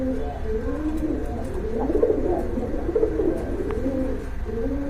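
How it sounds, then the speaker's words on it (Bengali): Several pigeons coo in low, throaty, overlapping murmurs, steady and close, with a faint constant background hum. "এখানে কিন্তু আর এক জোড়া কবুতর আছে"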